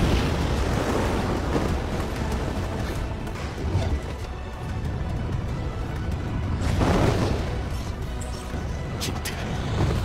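An anime battle scene from Solo Leveling fills with a loud, dense roar of explosion and rumbling chaos, swelling in two heavier bursts, with screams buried in the noise.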